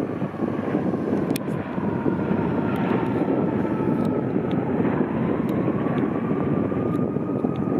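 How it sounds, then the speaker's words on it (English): A passenger plane descends to land at Billy Bishop airport on the Toronto waterfront. Its steady, roaring jet engine whine holds throughout with faint wind buffeting, and there is no talk. "it looks like it's a real passenger plane. It's landing at Billy Bishop."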